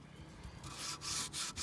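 Steady abrasive rubbing of sandpaper on wooden HO-scale model railway track, close up, swelling louder in strokes with brief pauses between passes.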